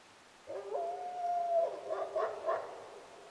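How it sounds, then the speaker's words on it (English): A single wolf howls in the wilderness from across a small bay, a long sustained tone that wavers and breaks into rising and falling notes near its end, clear against a quiet night background with no talking. "That is a wolf."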